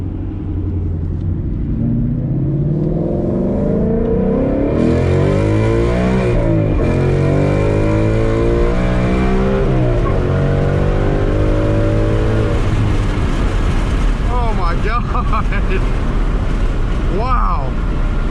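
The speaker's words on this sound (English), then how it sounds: "I'm gonna do a little first gear pull here in sport mode" A Ford Mustang GT in sport mode pulls hard through first gear, its engine note climbing steadily in pitch as it accelerates, loud and close, then dropping off sharply before a brief rev near the end.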